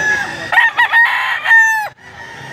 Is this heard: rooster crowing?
yes